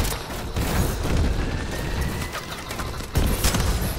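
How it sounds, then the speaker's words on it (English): Gunfire in the video game Call of Duty: Advanced Warfare, a dense continuous fusillade with booms and mechanical clatter filling the whole stretch, with no voices heard. "Who the heck is shooting me?"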